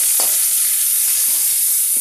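A tempering of garlic, green chilies, curry leaves, asafoetida and turmeric sizzles loudly in hot oil in a pan while a spoon stirs it with brief scraping knocks, close up and continuous.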